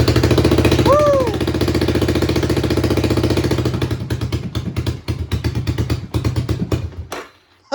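A Honda ATC250SX three-wheeler engine idles loudly and close by with a rapid, steady mechanical clatter and pulsing exhaust, then abruptly shuts off near the end.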